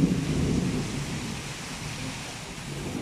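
Heavy rain hisses steadily while a deep roll of thunder rumbles at the start and fades away underneath.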